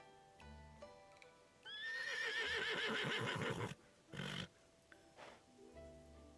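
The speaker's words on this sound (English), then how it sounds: "A horse like this shouldn't be kept as some ornament for a tavern owner." A horse in the Love and Deepspace video game lets out one loud, shaky whinny lasting about two seconds over soft background music, followed by a short, heavy snort or stamp.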